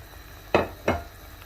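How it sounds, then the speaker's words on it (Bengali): Fried paneer and potato kofta balls drop into a bubbling curry gravy in two distinct, close, wet plops with brief sizzle, over a low simmering background. "এখন আমি এর মাঝে সবগুলো ভেজে রাখা কোফতা একে একে দিয়ে দিচ্ছি।"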